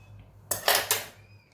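Scissors cut through chiffon fabric along a marked V-collar neckline at three-quarter inch, giving a short, close crunching snip of two or three quick strokes against a quiet room with a faint hum.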